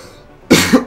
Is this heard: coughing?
yes